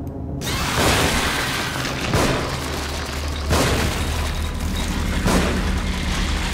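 Explosions in The Evil Within: a string of loud, booming blasts repeats roughly every one to two seconds, each a broad rumbling burst layered over continuous heavy noise.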